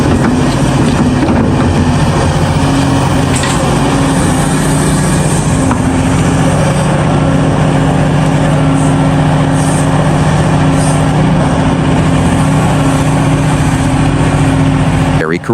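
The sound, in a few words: CAT 349E and 365C excavators loading trucks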